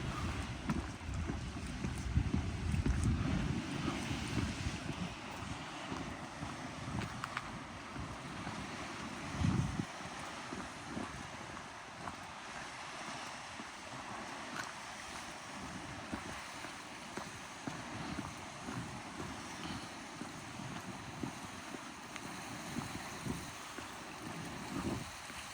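Sea waves wash onto a shore in Greece in a continuous surging hiss, heard outdoors with wind buffeting the microphone throughout.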